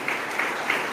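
Audience applause at a book launch, a steady wash of clapping from a seated crowd with a few louder bursts standing out over the brief clip.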